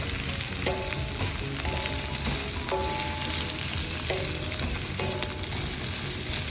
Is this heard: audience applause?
no